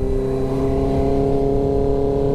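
A motorbike engine runs close by on a group ride, giving a steady, loud droning hum with a strong tonal buzz that holds for about two seconds. No one speaks.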